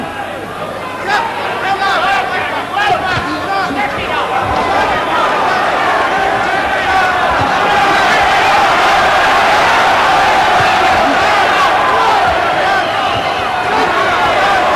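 A boxing crowd at the Gary Mason versus Everett Martin fight roars and chatters continuously, a broad wash of many voices with a commentator talking over it.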